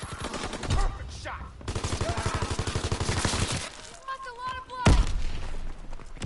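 M1941 Jawbreaker machine gun firing in Call of Duty WW2, rapid sustained bursts of gunfire separated by brief pauses and metallic reload clicks, loud and close.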